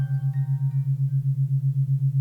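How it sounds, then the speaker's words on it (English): Earth's Schumann resonance rendered as an audible tone: a low, steady hum that pulses in a quick regular rhythm, with faint higher tones fading out early, heard alone with no voices. "That is the sound of the earth."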